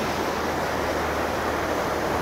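A rushing mountain stream after a flash flood, a dense, steady roar of fast water that stays loud and unbroken without speech.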